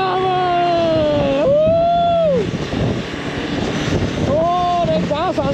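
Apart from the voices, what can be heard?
KTM motorcycle engine at full throttle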